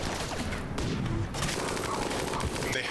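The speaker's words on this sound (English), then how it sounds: "They have an artillery piece." Artillery fire in the colony-building game RimWorld, a dense and loud roar of blasts and crashing impacts that runs without a break, with a few sharp cracks standing out.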